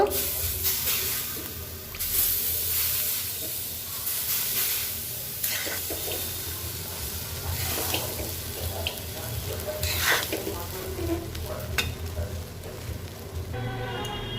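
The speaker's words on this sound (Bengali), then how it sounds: "আর একটু জলের ছিটে দিব" Sujir polao frying in a pan hisses and sizzles steadily, with sharper bursts of crackle as splashes of water hit the hot semolina, amid stirring scrapes close by.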